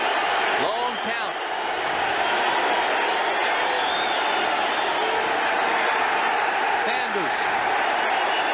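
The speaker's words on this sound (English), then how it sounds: "I think they can hear this crowd across the Hudson to Manhattan" Huge football stadium crowd at a 1989 Giants versus Lions game roaring continuously, a loud sustained wall of cheering with whoops rising and falling throughout.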